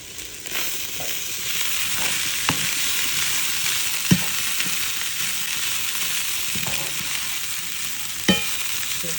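Steady broadband sizzle of rice frying in a pan, with occasional sharp scrapes and clicks of a utensil stirring, close and continuous.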